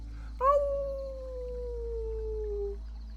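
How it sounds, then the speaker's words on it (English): A single long wolf howl rises sharply, then glides slowly downward and fades over about two seconds, clear and mid-distance over a low steady background hum. "It was getting dark, and the wolves were starting to howl."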